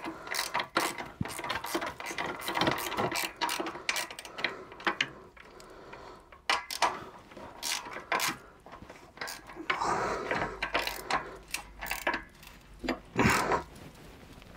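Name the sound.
tightening a fitting while installing a supercharger on a Hemi engine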